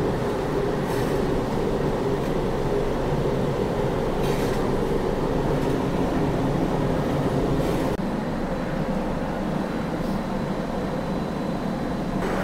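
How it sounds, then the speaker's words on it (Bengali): A Kolkata Metro train runs on the Dum Dum to airport line as it enters Jessore Road station. A steady loud rumble of wheels and carriage noise continues throughout, with faint rhythmic clacks and no speech. "এবার আমরা ঢুকছি হচ্ছে যশোর রোড মেট্রো স্টেশন"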